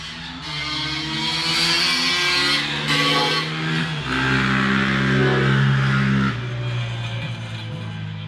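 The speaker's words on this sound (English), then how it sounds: "We have these idiots who live around here that take their four-wheelers on the 30-mile-an-hour road and do about double that speed-wise" A four-wheeler ATV speeds along a 30-mile-an-hour road at about double the limit, its loud, close engine droning with shifting pitch as the throttle changes. No one speaks.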